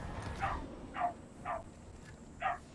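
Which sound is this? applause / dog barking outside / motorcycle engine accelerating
dog barking outside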